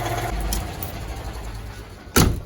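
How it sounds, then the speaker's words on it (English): A Citroen 2CV's small engine idles rich with a low, uneven pulsing burble. Near the end a brief sharp clunk cuts in over it. "That is a rich idle."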